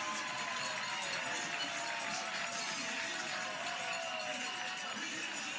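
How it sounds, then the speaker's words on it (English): A hometown crowd cheers at a professional softball game between Portland's Cascade and the Chicago Bandits after the Bandits score, a steady roar of a large stadium crowd, distant and broad. "And the hometown crowd loves it."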